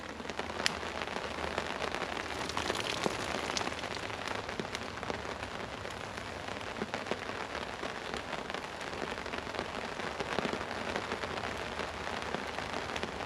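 Steady rain patters on a cabin roof overhead, a dense, even hiss with scattered sharper drops, continuous and moderately faint, with no voices.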